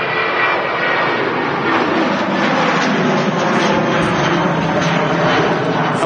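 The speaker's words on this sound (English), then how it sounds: "Already about to touch down." An airliner on final approach to touch down at Manchester Airport, a loud steady jet roar with broad rushing noise that holds close and constant throughout, no voices over it.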